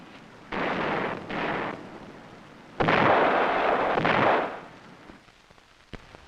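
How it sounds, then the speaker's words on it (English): Bursts of rapid heavy 20mm cannon fire roar in two long rumbling volleys, each lasting around a second, with quieter gaps and a single distant thump after, in a jungle. "In return, they opened up with their 20mm cannon."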